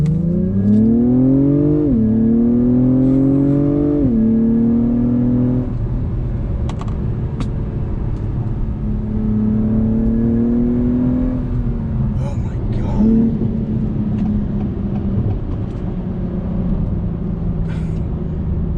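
An Acura TLX Type S sports sedan engine, not yet fully warmed up, revs hard through several gear shifts, rising in pitch, dropping, and climbing again, loud and close, with a few brief voices over it.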